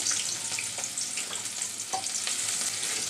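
Onion and chopped garlic frying in a pan, a dense continuous sizzle close up with scattered stirring scrapes and taps throughout, no voices.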